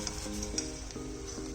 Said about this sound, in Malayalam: ആവുന്നവരെ ഇനി വറുത്തുകൊണ്ടിരിക്കുക.